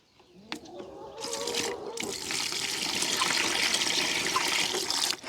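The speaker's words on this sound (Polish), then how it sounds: "Zalejemy szczura tą starą wodą." Old water is poured out of a container onto the ground, a fairly quiet, continuous splashing gush that builds after a few faint knocks and keeps flowing to the end.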